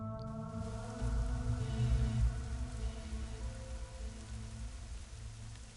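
Rain falling in the video game Shadowrun: Hong Kong, a steady hiss of rainfall with a droning low ambient tone beneath, swelling slightly before settling, with no voices.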